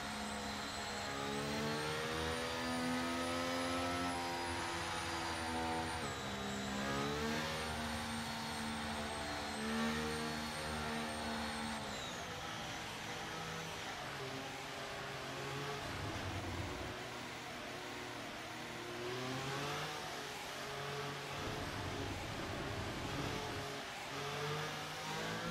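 Race cars in a Project Gotham Racing game pulling away together at a safety car restart, engines droning in layered overlapping tones that rise and shift, steady and continuous with no talk.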